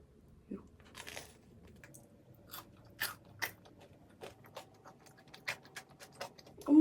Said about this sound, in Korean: 그래서 먼저 요 안데스 소금빵부터 먹어볼게요